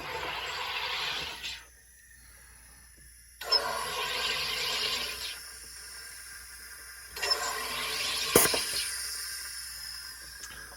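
A SodaStream Fizzi pumps carbon dioxide into a bottle of water in three separate loud hissing bursts, each lasting a second or two, with quiet gaps between.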